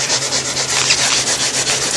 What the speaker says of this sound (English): Stay in this area and scuff this down really good.